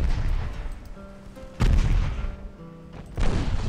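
Warship main guns fire armour-piercing rounds in the naval strategy game Ultimate Admiral Dreadnoughts, with heavy booming shots at irregular intervals over a constant low rumble of battle ambience and no speech.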